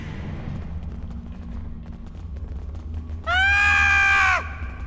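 Quark, the Ferengi character in Star Trek Online, lets out a single loud, shrill scream lasting about a second, cutting sharply above a low ambient game hum.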